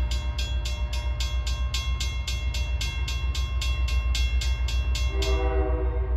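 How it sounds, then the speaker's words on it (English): A steam train out on a heritage railroad line draws closer from the distance, sounding a rapid, steady series of about twenty sharp whistle or bell-like pulses over a low rumble. A tonal blast follows near the end. "I can hear the steam train off in the distance approaching the Deer Park siding."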